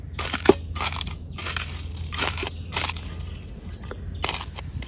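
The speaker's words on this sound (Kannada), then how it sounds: "ಇದನ್ನು ಪುಡಿ ಮಾಡಿ ರೆಡಿ ಮಾಡಿ ಇಡು" Something being crushed into powder in a home kitchen while cooking, with repeated short gritty crunching bursts at an uneven rhythm, close and moderately loud over a steady low background hum.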